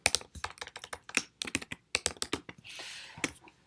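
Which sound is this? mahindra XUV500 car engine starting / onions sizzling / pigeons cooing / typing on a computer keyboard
typing on a computer keyboard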